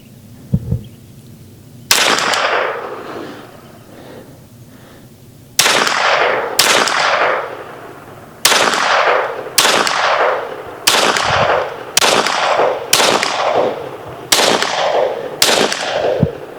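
Huben GK1 semi-automatic PCP air pistol fired off hand at 100 yards outdoors: about ten sharp, loud cracks, each with a trailing echo, first spaced a few seconds apart, then coming in quicker succession.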